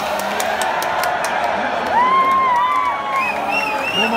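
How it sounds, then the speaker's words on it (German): Festival crowd at the Heinerfest in Darmstadt cheering, whooping and clapping in a dense, sustained wash of noise, with voices and whistles rising above it throughout. "Könnt ihr alle die Hände klatschen?"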